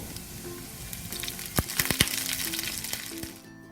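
Shallots, torn dried chilli and curry leaves fry in hot oil for a Kerala paripp curry tempering, giving a soft steady sizzle with several sharp crackles and pops in the middle before fading.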